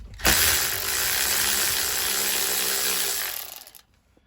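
A power tool with a deep 10mm socket spins out a steering wheel bolt on a 1995 Ford F-150, one steady close whir of about three seconds that winds down and stops.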